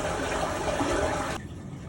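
Water gushes steadily into a sump drain pipe at home, a dense rushing hiss that abruptly drops to a quieter trickle partway through.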